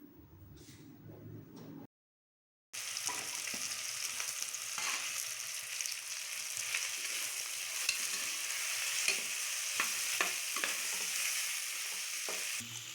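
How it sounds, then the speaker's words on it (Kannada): Chopped carrots and beans are stirred as they fry in a pan for a soya pulao. A steady close sizzle runs throughout with scraping stirs, broken by a short silent gap near the start. "ಹೆಚ್ಚಿದ ಕ್ಯಾರೆಟ್ ಮತ್ತು ಹುರುಳಿಕಾಯಿ ಹಾಕಿ ಮಿಕ್ಸ್ ಮಾಡಿ."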